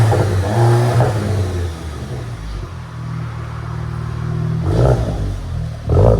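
A 2018 Audi A3 S-Line with a 2.0L turbo engine and straight-pipe exhaust revs loudly up close, a sustained rasping drone with sharper blips near the start and end.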